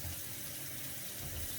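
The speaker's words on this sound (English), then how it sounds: "And I hope my faucet isn't too loud." A kitchen faucet runs as a blender base is washed, giving a steady close hiss of water splashing into a sink, even and unbroken with no voices.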